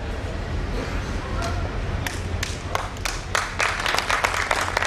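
Audience members at a Yuva Rajputana Sangathan community program begin clapping, sparse sharp claps that start after a couple of seconds and thicken into light applause over a background murmur of voices.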